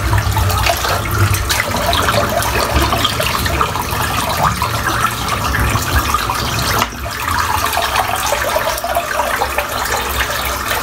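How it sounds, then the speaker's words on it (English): Dirty shaving water being poured out of a lather bowl and rinsed under running water, a continuous splashing and gurgling flow, loud and close, with a brief break midway. "I'm trying to get this water out, it's filthy."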